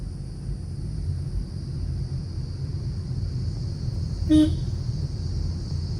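A short, fairly faint car horn honk, a long press during a driving lesson, rises once above a steady low rumble and constant high-pitched hum.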